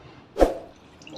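A single short liquid splash or drip of fermented banana wine passing through a boiled, sterilized strainer, one soft wet burst, close and quiet, with no talk.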